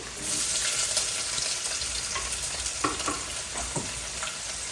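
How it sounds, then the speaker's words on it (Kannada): Onions fry in hot oil with mustard seeds, cumin, crushed garlic and curry leaves in a home kitchen, making a loud, steady sizzle. Occasional stirring scrapes and light utensil taps are close by, with no talk. "ಇಲ್ಲಿ ಈರುಳ್ಳಿ ಹಾಕ್ಕೊಂಬಿಟ್ಟು ಹುರ್ಕೊತಿದ್ದೀನಿ"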